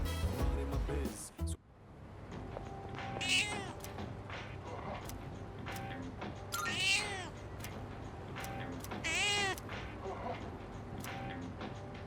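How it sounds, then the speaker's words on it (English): A cat in the Persona 3 Reload video game meows several times in short separate calls, clear and close over a quiet game background. "we first need to go to the outskirts and feed the cat."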